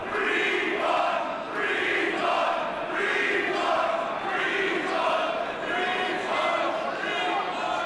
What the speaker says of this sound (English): the crowd is on him because they're on him as the promoter for not delivering Sabu